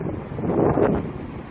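Gusty wind buffets the microphone in a short, rumbling burst, with no voices.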